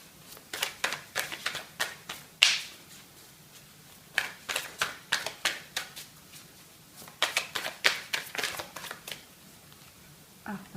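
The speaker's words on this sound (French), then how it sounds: "je vais tirer mes cartes" Tarot cards are shuffled by hand in quick bursts of riffling and flicking, several clusters separated by short pauses and one sharper slap, close and fairly quiet, without speech.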